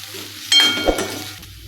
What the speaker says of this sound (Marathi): आता हे सर्व साहित्य आपण लो टू मिडियम गॅसवरती चांगले परतून घ्यायचे आहे